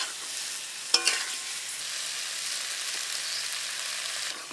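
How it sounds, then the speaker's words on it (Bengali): Taro and potato pieces stirred and fried in spice paste in a pan for a Bengali gathi kochu dish, a steady soft sizzle with a couple of sharp utensil clacks near the start, no talking. "এবার আমি কচু আর আলু যেটা ভেজে রেখেছিলাম সেটা দিয়ে দেব। ওটাও ভালো করে মশলার সাথে ভালো করে কষিয়ে নেব।"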